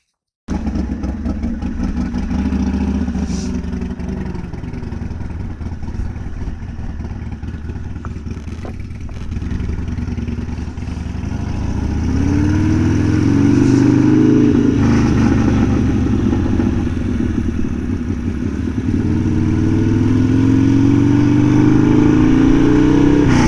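Motorcycle engine running steadily through a ride on an 18°C autumn day near a reservoir, a continuous mid-pitched drone that swells louder and revs higher in the second half, no talking.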